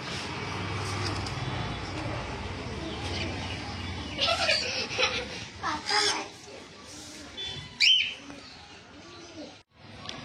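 Caged pet birds, including cockatiels and lovebirds, call and chirp at a bird shop, rising over a busy background with people talking, a few sharper tweets standing out toward the end.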